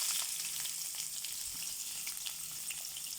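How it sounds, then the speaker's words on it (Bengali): Chopped onion, garlic and ginger fry in hot ghee in a pan, giving a steady, dense sizzling hiss that stays even throughout with no talking. "দিয়ে দিলাম পেঁয়াজ কুচি"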